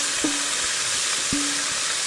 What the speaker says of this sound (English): I'm just going to saute that till it's lightly browned.